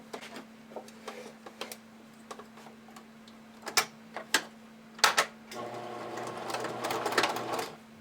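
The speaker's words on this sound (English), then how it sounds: "now we can sew that together using a 1/2 inch seam allowance" A sewing machine stitches elastic with a half-inch seam, starting with soft ticks and a few clicks, then running in a steady whirring burst near the end, close with no talking, over a faint constant hum.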